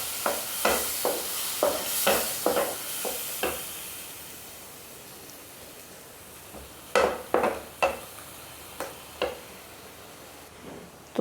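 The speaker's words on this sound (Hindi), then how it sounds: "तो ये 2 टमाटर को हमने पीस कर ले लिया है। तो इसको भून लेते हैं।" Ground tomatoes frying in spice masala in a kadhai, a steady soft sizzle under a series of clicking stirring taps in two clusters, close and without talk.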